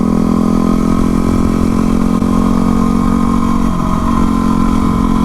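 Yamaha WR250R supermoto motorcycle engine idling steadily, close and loud, with a constant buzzy single-cylinder drone and no talking.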